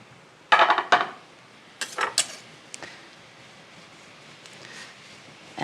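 A knife cuts through guanciale, cured pork jowl, on a board in a home kitchen: a few sharp clacks and knocks in two short clusters, then quieter scraping and taps, close and otherwise quiet.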